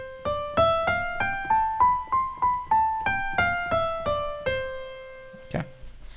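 Major scale played on an instrument, plucked notes stepping up and then back down in an even rhythm, each note decaying quickly, close and clear with no talk, ending with a brief knock.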